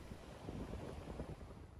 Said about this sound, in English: you would have noticed in the background it's quite windy